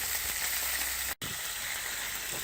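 A venison roast sears in a Dutch oven, giving off a steady, close sizzle with a brief break partway through.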